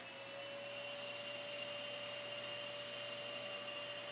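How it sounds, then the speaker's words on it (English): A Bosch Duo sealed-system vacuum cleaner runs steadily with a constant loud whirring drone and high whine, close and unbroken throughout. "we're going to test the working vacuum"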